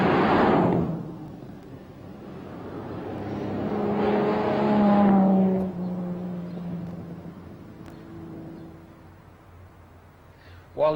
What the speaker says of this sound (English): if you want to go just a little quicker, slip it back a gear and away you go